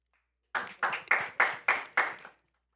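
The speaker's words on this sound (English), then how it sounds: "I should not be receiving claps for that." Six sharp hand claps ring out at a steady, slightly slowing pace, close and distinct, with silence before and after, applauding a video game speedrun.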